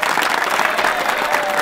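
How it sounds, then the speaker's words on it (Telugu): A gathered crowd in a Telugu film scene claps loudly and continuously, a dense, close roar of many hands with no pauses across the short stretch. "దీనికి కూడా క్లాప్స్"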